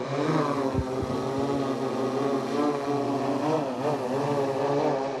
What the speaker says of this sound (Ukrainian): Спочатку злітає дрон-ретранслятор, та він без антени